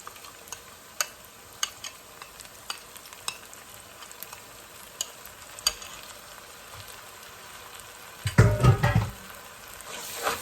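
Whole spices such as panch phoron, garam masala and fenugreek seeds fry in a pan, with faint stirring ticks and scrapes throughout and a louder burst of sizzling near the end.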